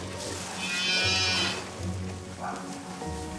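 Cow on a farm giving a long, strained moo while a veterinarian and helpers pull out her calf, which is stuck with bent legs. The call is close and loud, over low background noise, with a second shorter call later.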